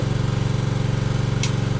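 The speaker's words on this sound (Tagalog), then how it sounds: "Ibang klase ng grass cutter na naman yan eh." A grass cutter runs steadily and close, its engine putting out a constant rapid pulsing drone with no breaks, and one brief higher noise cuts in near the end.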